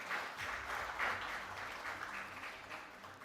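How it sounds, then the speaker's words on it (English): Audience applause at an annual meeting, a steady wash of many hands clapping at moderate distance, fairly soft and continuous throughout. "A round of applause, please."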